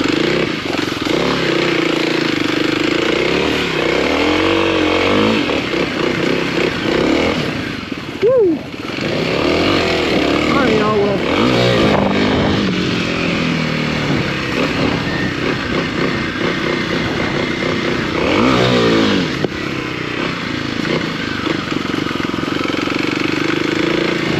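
Kawasaki KLX300 dirt bike on a trail ride, its engine droning loudly and continuously, with throttle blips and revving surges as it climbs and rolls over uneven ground.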